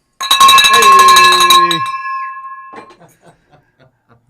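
A bell rings once loudly to celebrate a closed real estate deal, its bright metallic tone ringing on and fading slowly, with a short spoken greeting and laughter around it.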